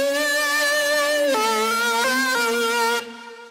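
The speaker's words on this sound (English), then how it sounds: "I'm just using my pitch bend wheel and starting on the note below where the melody starts" A synth lead plays a sustained melodic line, starting a step below on C and bending up to D, changing pitch several times before the tone drops away near the end; loud, close and alone without talk.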